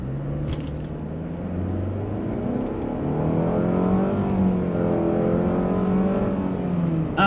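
A 2021 Nissan Rogue with a CVT accelerating from a stop, heard from inside the cabin as a steady engine drone rising smoothly in pitch without gear shifts, moderately loud and continuous.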